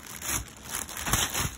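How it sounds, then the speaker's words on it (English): Plastic bag crinkling while a Tone King Ironman II Mini reactive load attenuator is unboxed from styrofoam packaging; close, continuous rustling in several bursts, no talk. "Plastic bag."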